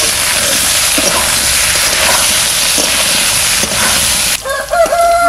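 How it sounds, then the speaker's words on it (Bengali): Potatoes frying in hot oil in a home kitchen, a steady loud sizzle and crackle close by, with a rooster crowing in the background near the end. "আলুও ভাজা ভাজা করে নিচ্ছি, তুলে নিচ্ছি।"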